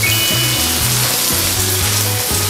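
Green beans hit a pan of frying pork with a loud, steady sizzle, joined by a repeating low mechanical hum that cycles on and off underneath.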